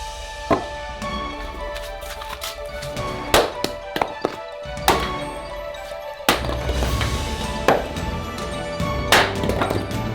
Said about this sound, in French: il faut d'abord couper du bois